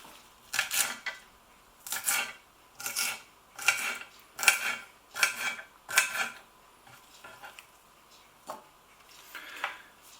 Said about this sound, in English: So I'm just chopping the stems